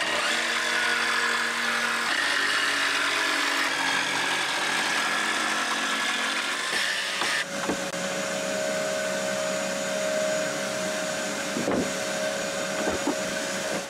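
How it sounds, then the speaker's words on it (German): An electric jigsaw cuts out chipboard with a loud, continuous buzzing rasp, close by, its tone shifting midway, with brief pauses and a steadier whine toward the end. "die schneiden wir jetzt mit der Stichsäge aus"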